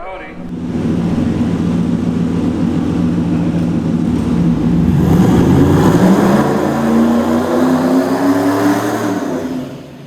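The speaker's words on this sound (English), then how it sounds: "He just spins the tires out here, yeah. First burnout. First turbo burnout." A turbocharged Ford race car does a burnout, spinning its tires. The loud, sustained engine roar climbs in pitch over several seconds with a harsh, gritty edge, then fades slightly at the end, with people talking in the background.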